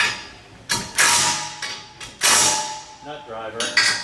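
A 3/8 nut driver turns stainless steel bolts on a RexRack collector mounting system, giving close metallic clicks, creaks and taps in uneven bursts with brief gaps.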